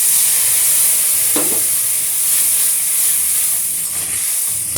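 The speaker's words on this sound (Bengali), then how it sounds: "আমি একটু জল দিয়ে দিলাম" Water poured into a pan of frying spice paste with bitter gourd, giving a loud, steady steam hiss and sizzle that fills the whole stretch, with a brief stirring scrape partway through.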